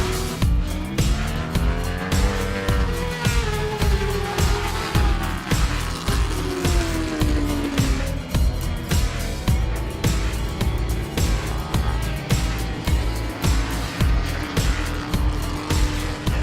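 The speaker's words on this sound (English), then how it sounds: "We look at the 600s and 1000cc motorcycles there." Racing motorcycles, 600cc and 1000cc machines, scream past at a road-racing event, their engines howling through rising and falling gear changes in a continuous loud roar with steady pulsing.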